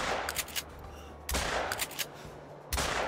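Two loud buckshot blasts from a 12 gauge shotgun in the hunting game Call of the Wild, each a sharp broadband crack with a decaying tail, about 1.4 seconds apart.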